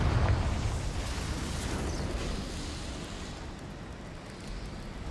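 A Confringo spell explosion in the Hogwarts Legacy video game gives a loud burst at the start, then settles into a long, even rumble that fades slowly. No voices are heard.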